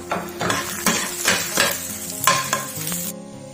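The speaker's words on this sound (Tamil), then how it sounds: "எல்லாத்தையும் ஒரு கடாய் சூடானோன்னு அதை சேர்த்து நம்ம வறுத்து எடுத்துக்கலாம்" Fennel, cumin, coriander and dried chillies dry roasting in a hot kadai for Chettinad chicken chukka, with repeated scraping stirs of a spoon against the metal and a light crackle in between, close and alone, with no voices.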